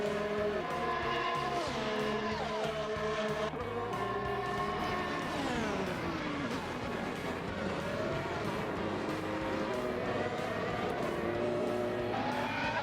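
Formula One cars, including two Mercedes, howl past on the old Austria layout in a racing game, engine pitch sweeping up and down as the cars close in and pass, alongside steady engine drone from the player's own car.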